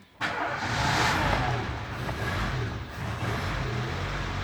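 Renault Logan 1.0 engine with a fault noise starts up and idles roughly, a loud steady mechanical rumble and whir that dips and wavers after a sharp onset.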